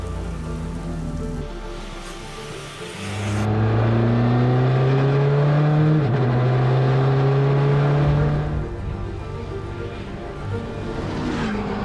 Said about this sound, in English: Charging down the Bentley straight at 150 miles an hour.